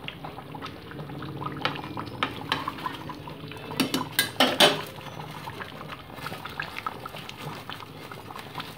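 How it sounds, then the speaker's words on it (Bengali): Ground garam masala paste is added into a simmering chicken curry with potatoes, heard as clinking of a spoon against the pot, wet stirring and a cluster of sharp metallic knocks midway over a soft bubbling background. "তো এবার আমি বেটে রাখা গরম মশলাটা এর মধ্যে অ্যাড করে দেবো।"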